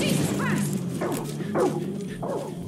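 Dog barks and yips in Far Cry 5 gameplay, a few short sharp calls spread across the clip over steady game music and ambience, with someone talking.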